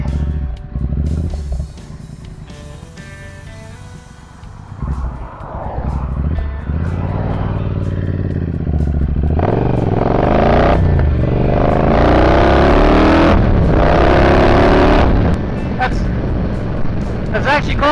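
Triumph Bobber motorcycle fitted with a Fox rear shock rides over a bumpy road, its engine droning and rising with clatter and jolts from the bumps, close and loud throughout, with wind rush and a rider talking over it.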